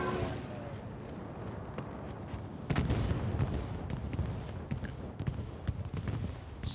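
A Stuka dive bomber air strike in a multiplayer war game lands as a dense, rumbling barrage of explosions and gunfire, with a sharp surge of blasts partway through followed by continuing scattered impacts.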